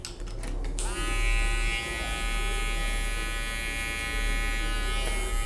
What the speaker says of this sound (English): We'll go back with our trimmer.